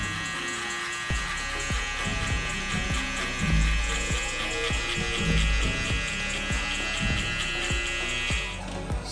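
Electric hair clippers, lever open and no guard, cutting a mid fade hair: a steady close buzzing hum with brief scraping bursts as the blade moves through hair, running throughout.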